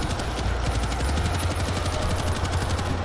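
Rapid automatic gunfire from World War Z, a co-op zombie shooter, rattles continuously at close range in dense overlapping bursts with no voices heard.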